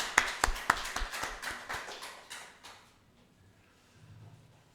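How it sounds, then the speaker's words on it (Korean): A church congregation claps after a choir's hymn, a brief round of sharp hand claps that thins and fades within a few seconds into quiet room tone. "다시 한번 감사의 박수 드리도록 하겠습니다"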